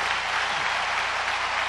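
Stadium crowd at a 1989 Oregon State at Oregon college football game applauding as injured player Jason Kent leaves the field: a loud, dense, sustained wash of clapping and cheering, steady from start to finish.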